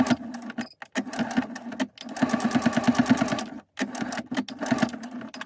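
A sewing machine running a straight stitch close by in loud rapid rhythmic bursts, stopping briefly twice between runs of even stitching.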